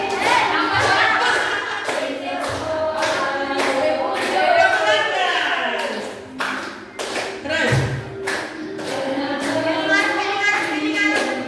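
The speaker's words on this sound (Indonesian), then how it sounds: "Tepuk tangan sambil jalan." Sharp, regular hand claps ring out in a steady rhythm as a group walks during a classroom activity, with children's voices chattering and calling out between and under the claps.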